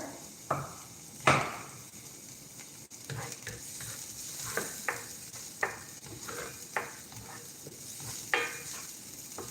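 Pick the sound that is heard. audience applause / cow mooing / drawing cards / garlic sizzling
garlic sizzling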